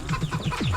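Chickens cluck in short, close bursts while feeding, several quick notes running together.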